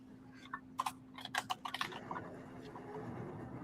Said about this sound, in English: My keyboard's waking up this morning.